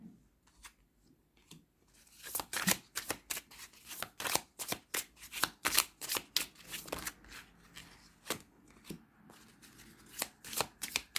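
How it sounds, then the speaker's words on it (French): Lenormand fortune-telling cards being shuffled by hand, a close, steady run of crisp riffling flicks and slaps that grows busier after the first couple of seconds, with no talking. "on va aller prendre 2 cartes du Lenormand"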